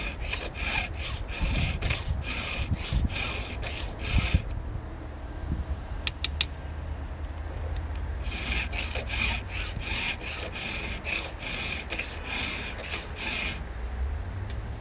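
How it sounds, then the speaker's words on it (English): Steady rasping strokes of a file on a rip chainsaw chain tooth, close and repeated in quick even bursts, pausing briefly midway before resuming. "I can tell by how smoothly the file's passing through the tooth if it's sharp"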